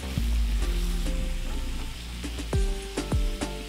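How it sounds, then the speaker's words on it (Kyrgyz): Funchoza noodles with pepper frying in a covered pan, giving a close, steady sizzle and hiss with occasional soft clinks and scraping, no voices. "Тамагыбыз куурулуп бүттү."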